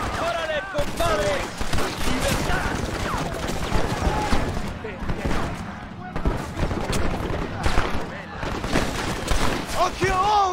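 Machine gun fire in Red Dead Redemption, dense and loud bursts that continue without a break beside shouting voices and game effects throughout.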